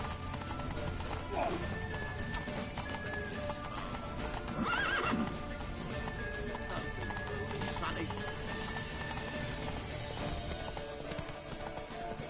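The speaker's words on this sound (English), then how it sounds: "Leave your horse!" In The Witcher 3, a horse gallops with steady clip-clop hoofbeats and lets out a whinny midway, under shouted speech and a busy in-game soundscape.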